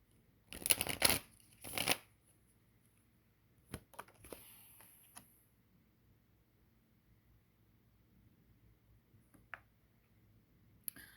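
A deck of tarot cards is shuffled in two quick riffling bursts near the start, loud and close, followed by scattered soft card taps and clicks in an otherwise quiet room.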